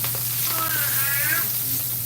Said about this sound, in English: we're cooking down our veggies